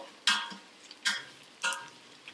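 Jackfruit pieces with bay leaves and green chilies being stirred in a pot, three distinct scraping strokes at steady intervals with a faint sizzle between, close and clear with no talking.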